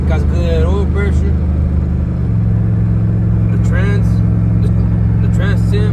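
A built Yukon Denali with an LQ4 engine and an LS3-style top end swap runs at a steady, deep idle, close by and continuous, while someone talks over it.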